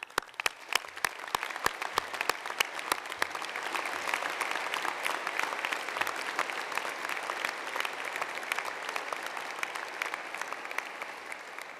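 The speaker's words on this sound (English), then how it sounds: "may we all please start by collectively applauding our graduands" An audience fills a cathedral with sustained applause for graduands at a graduation ceremony, a dense, even roar of many hands clapping from a distance for about twelve seconds, with sharper nearby claps at the start.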